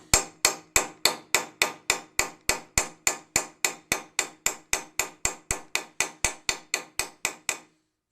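Rapid, evenly spaced hammer blows striking a stuck part on a Uni-Plow pump during disassembly, about twenty-five sharp metallic hits in steady rhythm, loud and close with no talk.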